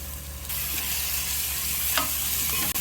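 Spice paste sizzles and frying in a pan with onions, a steady close crackle broken by a few scrapes of the stirring spoon.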